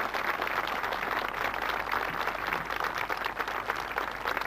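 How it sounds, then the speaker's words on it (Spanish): Congregation applauding inside a church, a steady, dense wash of clapping that holds evenly throughout with no voices over it. "Nuestra alabanza con un aplauso para el Señor Jesús."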